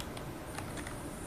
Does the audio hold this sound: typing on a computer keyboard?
yes